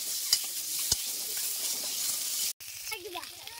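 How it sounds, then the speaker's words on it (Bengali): Eggs coated in salt and turmeric fry in oil, which crackles and sizzles steadily with a couple of sharp pops, then a brief cut and softer sizzling with faint utensil sounds. "ডিমগুলো আমি ভেজে নিচ্ছি,"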